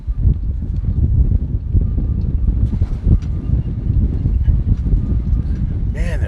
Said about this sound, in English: Man, that wind is crazy.